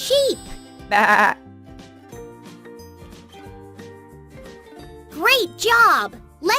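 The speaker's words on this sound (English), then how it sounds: "Sheep." Two cartoon-style sheep bleats from a kids' farm animal puzzle game, a short one near the start and a longer pair of wavering bleats later, set over a light jingly music track.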